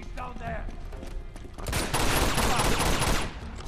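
Rapid pistol shots from Uncharted 2 ring out in a dense burst of gunfire, building to a loud sustained volley in the second half, with a faint voice beneath the earlier part.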